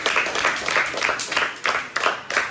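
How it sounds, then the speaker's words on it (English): A classroom group claps in a short burst of scattered applause that rises and falls for a couple of seconds, with no talking. "Give her a clap."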